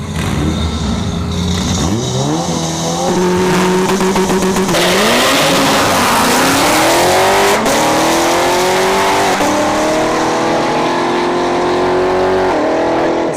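A Honda Civic and a Corvette C7 launch down a dragstrip, engines roaring loud and close, with rising revs climbing through several gear shifts over a steady roar.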